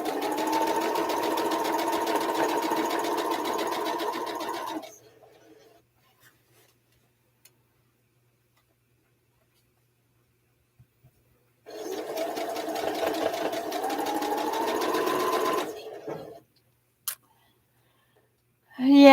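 Sewing machine stitching quilt block rows together, two close bursts of rapid steady whirring, about five and four seconds long, separated by near silence, with small clicks at the end.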